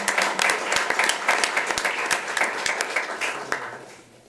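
Applause ripples through the audience at a school district board of trustees meeting, a brisk round of many hands with sharp individual claps that thins out and fades over the final second.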